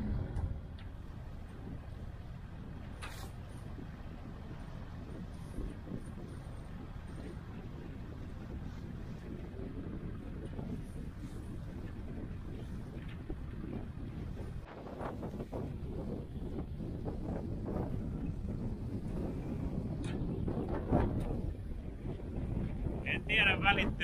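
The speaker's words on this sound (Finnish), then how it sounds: "En tiedä välittyykö ehkä äänessä, tuulessa se, kuinka kova tuuli täällä on." Strong wind buffets the microphone aboard the sailboat Carissima out at sea on Porkkalanselkä. It makes a steady low roar that builds toward the end, and voices can be heard faintly underneath.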